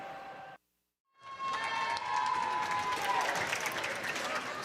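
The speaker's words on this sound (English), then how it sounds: "Student fans trying to get the crowd going." Student fans in the crowd at a high school basketball game between Sully Buttes and Lyman cheer and clap as a loud, sustained roar that swells after a brief silent gap, with a voice talking over it.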